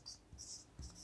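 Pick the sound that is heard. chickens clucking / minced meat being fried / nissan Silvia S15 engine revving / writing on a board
writing on a board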